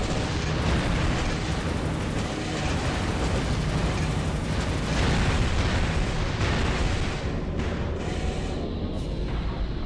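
Dual heavy shotguns in Armored Core 3 blasting in a dense, continuous barrage of loud booming bursts that overlap into a roaring wall of sound with no pauses.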